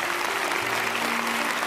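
Applause from a church congregation at a Christian preaching service, a steady dense clapping wash that fills the whole short stretch at even loudness.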